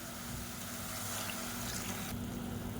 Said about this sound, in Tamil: இந்த ஸ்டேஜில் தண்ணி சேர்த்துக்கலாம்.